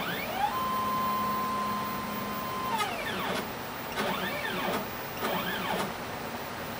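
Stepper motors on a mini CNC machine traverse the spindle holding a 60 degree bit, a steady whining tone ramping up and down, followed by several short rising-and-falling whirs of repeated moves, close and fairly quiet.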